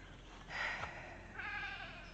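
Several goats bleat on a farm in the morning, two drawn-out calls a moment apart, moderately near and heard alone over a quiet background.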